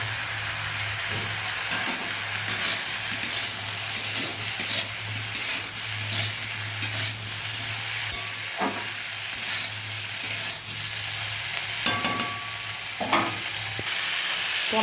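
Kidney beans and soy milk stirred in a pan, a spoon scraping and swishing in irregular strokes over a steady sizzle, close and fairly loud with a faint low hum underneath.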